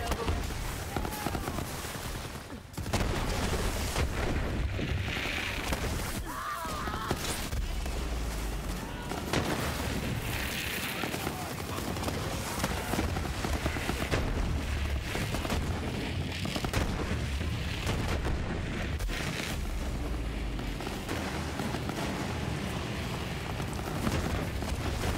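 The Gargoyle, a legendary weapon in Borderlands 3, fires in a loud, continuous barrage of booming blasts and crackling explosions, dense and relentless with no pauses and no talk.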